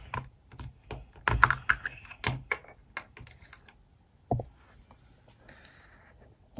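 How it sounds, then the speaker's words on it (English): A labradorite heart lifted out of its box, with a quick series of light clicks, taps and rustles close by, busiest in the first few seconds, then sparse soft handling sounds and one sharper knock near the end. "I'm going to take it out of the box."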